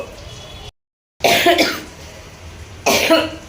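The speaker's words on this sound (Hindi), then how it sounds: "खांसी रुक रही नहीं" Two harsh coughs close by, separated by a short pause, with a moment of silence before the first.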